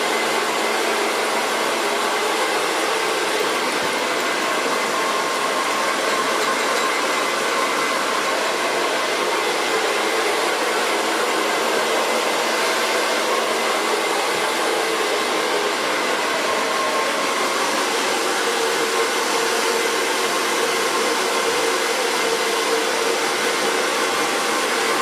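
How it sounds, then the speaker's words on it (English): A hair dryer blows steadily and loudly on a freshly cut bob with fringe, one continuous close whoosh for the whole stretch with no voices. "So far blow drying."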